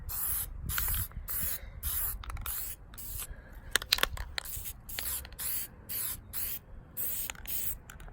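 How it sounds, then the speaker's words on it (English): Red spray paint hisses from an aerosol can onto a Pontiac Firebird model in a steady run of short bursts, each a broad close hiss separated by brief pauses, with no voices. "So I got my red spray paint here and I'm ready to paint it."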